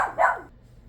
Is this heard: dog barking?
yes